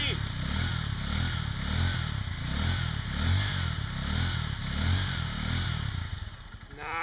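A brand-new 2024 Honda XR150L dual sport motorcycle runs loud and close with a steady throbbing engine note that swells slightly, while people talk excitedly over it before the engine sound drops away at the end.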